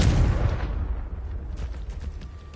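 A Confringo fire spell explodes in the Hogwarts Legacy video game: one loud, close burst with a deep boom that decays over about two seconds into a fading rumble.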